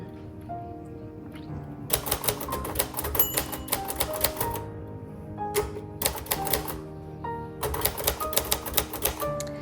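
Typing on a 1956 Royal Quiet Deluxe manual typewriter: bursts of quick crisp key strikes separated by pauses, with carriage and mechanism rattles in between, close and clear.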